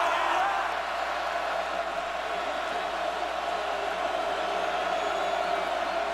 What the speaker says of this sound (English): this crowd getting into it at Memorial Stadium